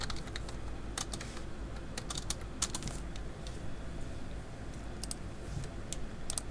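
Fingers type on a computer keyboard in rapid irregular bursts of crisp key clicks, close up and fairly quiet, with short pauses between runs of keystrokes.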